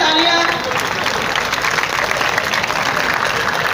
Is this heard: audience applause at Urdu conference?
yes